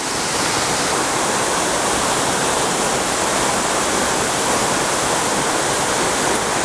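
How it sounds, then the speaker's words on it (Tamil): Alasanthapuram waterfall near Natrampalli in Tirupattur pouring into a pool below: a loud, dense, unbroken roar of falling water, close and steady throughout, with no voices. "இந்த அருவி ஊற்றுது இல்லையா,"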